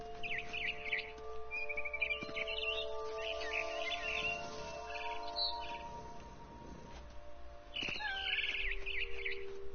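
Barn swallow chirping outside a window in the video game What Remains of Edith Finch: bright, scattered high twitters in short bursts over a steady humming game ambience and low background drone.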